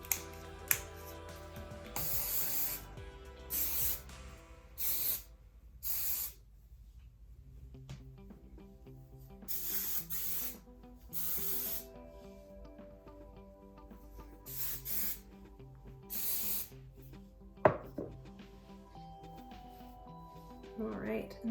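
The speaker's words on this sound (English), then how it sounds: "a firm hold hairspray" Short bursts of Sexy Hair Texture hairspray from an aerosol can, several separate hissing sprays of about a second each with pauses between, close and fairly loud over soft handling sounds.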